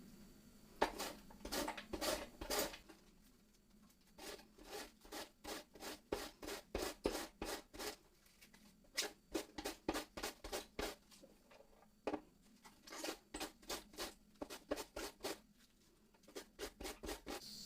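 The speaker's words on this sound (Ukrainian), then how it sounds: "Шинкуємо капусту." Cabbage being shredded with a knife for red borscht with beans: quick, crisp chopping strokes against a board come in rapid rhythmic runs separated by short pauses, close and clear with no voices.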